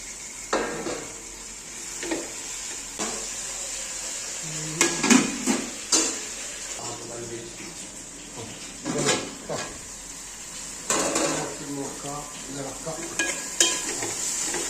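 Onion and tomato for egg curry fry in a pan, a continuous sizzle under repeated stirring scrapes and clatters of a utensil against the pan, some louder bursts.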